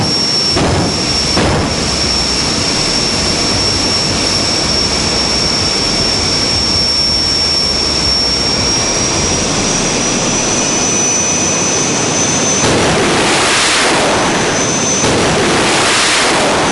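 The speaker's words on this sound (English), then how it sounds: "Time for a bit of hardcore jet car action. This is Fire Force 3." Fire Force 3 jet car at a drag strip: a loud, continuous jet engine roar with a high whine running steadily throughout, then swelling into a harsher blast toward the end.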